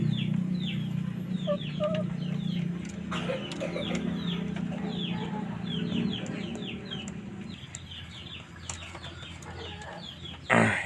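Many chickens cluck and chirp together in a constant busy chatter over a low mechanical hum.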